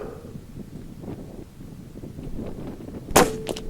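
Single shot from an Air Arms S510XS Ultimate Sporter air rifle firing a pellet outdoors in the wind, a sharp sudden crack near the end after steady wind rumble, followed by a fainter echo.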